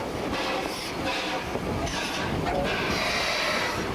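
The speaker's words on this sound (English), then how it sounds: "Our train stops just outside of the yards to be turned before pulling into the depot" A Nevada Northern Railway train rolls slowly outside the rail yards before being turned, giving continuous rumbling with rhythmic wheel clatter and occasional squeal, close and fairly loud throughout, with no talking.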